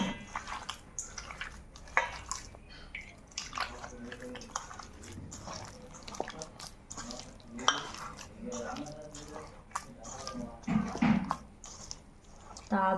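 Flour dough for malpua being kneaded by hand in a bowl with warm water, soft squelching and slapping close by, irregular and fairly quiet, with occasional faint clinks of the bowl.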